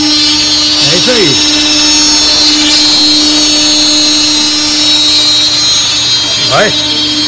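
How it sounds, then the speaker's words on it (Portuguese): A power tool machine cutting nylon cables runs with a loud, continuous whir and a steady hum, close by, with a voice speaking over it now and then. "olha a máquina trabalhando aqui"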